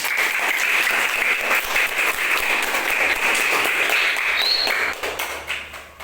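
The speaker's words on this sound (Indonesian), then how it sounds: "Tepuk tangan untuk kelas 6" A class of sixth-grade children applauds in a classroom, with dense, lively clapping that holds steady for about five seconds before tapering off.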